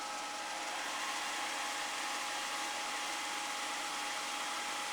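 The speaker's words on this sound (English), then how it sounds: "So I'm going to fire up spindle now." Spindle of a Jones & Shipman 524 EASY three-axis CNC profiling surface grinder running, a steady broadband whir and hiss held at constant level without a break.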